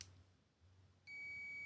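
A digital multimeter in continuity mode gives a steady electronic beep as a pressed switch makes contact, starting abruptly after a quiet stretch and holding on to the end.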